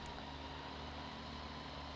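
Steady, unbroken mechanical drone of a mower working a hay field, heard from a distance as an even hum with low tonal bands and no voices.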